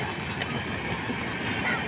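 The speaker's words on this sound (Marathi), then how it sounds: "आम्ही रेलमधून चाललेलो आहेत आणि ट्रेन दिसत असेल तुम्हाला चालते" A train rolling past near the Bhayandar bridge makes a steady close rumble with faint metallic rail clatter, heard briefly without talk.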